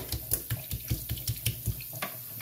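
Shower water running in a home bathroom, a steady splashing spray broken by repeated soft thumps and splatters as the stream hits a body or surface, close by and with no talk.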